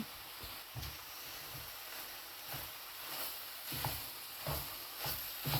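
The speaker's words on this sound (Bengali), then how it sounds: "এখন আমি বাখর পাতা দিম" Bay leaves dropped into hot oil for a pocket samosa filling, giving a faint, steady sizzle broken by several soft stirring scrapes, with no talking.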